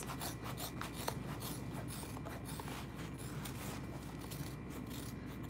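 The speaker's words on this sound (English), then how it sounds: "Trimming down that seam allowance." Scissors trimming a fabric seam allowance on a sewing project, a close run of quick rasping snips and rubbing cuts, continuous and fairly quiet, no talking.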